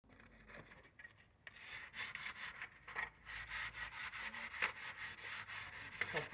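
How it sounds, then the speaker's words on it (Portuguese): Sandpaper rubbing over the painted grille of a Fiat Palio, continuous close scratchy strokes in a steady back-and-forth rhythm, growing louder after a quiet start. "Vamos lá, vamos lixar."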